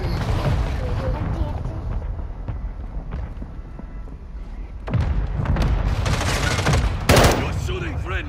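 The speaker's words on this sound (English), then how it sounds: "You dropped the mortar." Mortar shells burst in a video game firefight, with a rumble of gunfire and then heavy, loud explosions that crack and boom toward the end.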